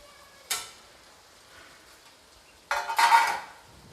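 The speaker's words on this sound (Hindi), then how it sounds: "और इसे मैं बिल्कुल अच्छी तरीके से मिला दूँगी।" A spoon scrapes and clinks against a pan while coriander leaves are stirred into pumpkin sabzi: one sharp knock early, a quiet pause, then a louder burst of scraping and clattering near the end.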